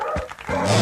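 A cartoon sabre-toothed dog gives a couple of short, loud, close barking yelps, then a sustained growling bark.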